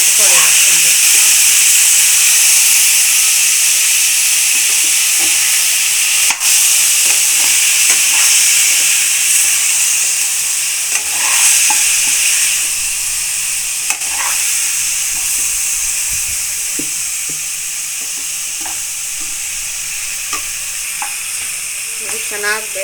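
Country chicken fries with turmeric in a pan, filling the whole stretch with a loud, continuous close sizzle and hiss, with occasional stirring clinks.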